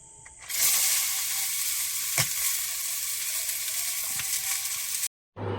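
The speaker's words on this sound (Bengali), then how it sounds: "আর আলুটা আগে ভেজে নেব। কড়াইতে তেল দিয়ে দিয়েছি।" Potatoes frying in hot oil in a kadai over a clay stove, giving a steady, close, bright sizzle that holds for about five seconds, with a couple of soft knocks before it cuts off.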